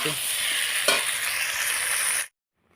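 A fish-head curry (muri ghonto) stirred and sautéed in a pan, a dense sizzling hiss with a brief scrape of the spoon, cutting off abruptly near the end.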